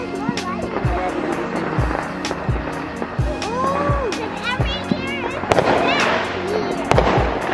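Backyard Fourth of July fireworks going off, a rapid series of sharp cracking pops in a steady rhythm, with whistling rockets and fizzing bursts, loud and close, while people talk and shout over them.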